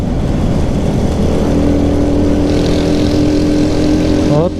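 Small 70cc motorcycle engine droning steadily as it rides through the dark Attabad Tunnel, loud and close with echoing rumble, rising in pitch briefly at the end as the throttle changes.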